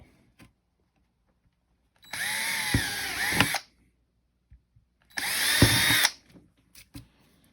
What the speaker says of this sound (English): Drill those holes out.